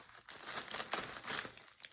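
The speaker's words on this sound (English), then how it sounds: "we're going to take this and cut open our package" A craft kit package is cut open, giving a brief burst of crinkling, rustling plastic and wrapping that swells twice before fading.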